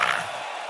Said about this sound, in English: My little crowd section really cheers loud.